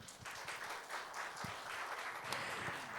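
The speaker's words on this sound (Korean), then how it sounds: "큰 박수 부탁드립니다" A seated audience at a 2021 youth session on inequality and inclusive prosperity applauds steadily, a dense, even wash of many hands clapping with a few sharper claps poking through, filling the whole moment without voices.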